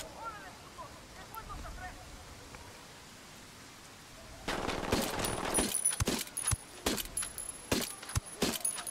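Gunfire in Tom Clancy's Ghost Recon Wildlands during an urban attack: after a quieter stretch, a burst of rapid shots starts around 4.5 s, followed by several separate sharp cracks. Someone talks in French underneath.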